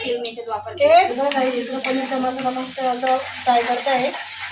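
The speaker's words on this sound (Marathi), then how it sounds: "चिकनचा मसाला फ्राय करते तर मस्त फ्राय होते" Chicken masala fries in a pan with a steady, close sizzle and occasional stirring scrapes, while a voice hums or talks over it throughout.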